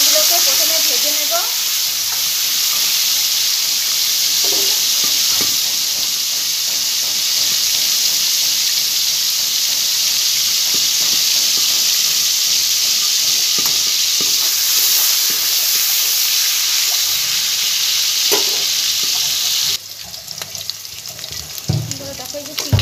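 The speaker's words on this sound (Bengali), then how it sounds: "এবার আমি তেলের মধ্যে মাছটাকে দিয়ে দেবো। চিংড়ি মাছগুলোকে প্রথমে ভেজে নেব।" Shrimp fry in hot oil in a kadai, a dense, steady sizzle and crackle running close and loud throughout, with faint stirring scrapes; it softens slightly near the end.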